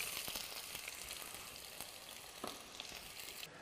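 Onion fries in a pan with a faint, steady sizzle, scattered crackles and pops throughout.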